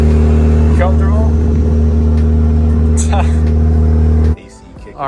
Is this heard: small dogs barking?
no